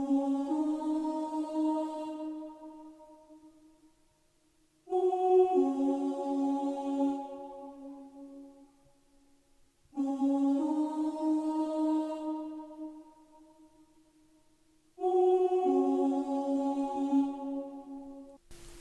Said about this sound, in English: I then added a ooh choir from Expand